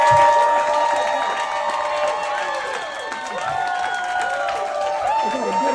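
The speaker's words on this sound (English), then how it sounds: "Hey, you want to see a little crowd video that we got?" A comedy-show crowd in a small room, heard as played-back footage, bursts into cheering and applause with shouting voices mixed in, and the noise of the room stays busy and fairly loud the whole way through.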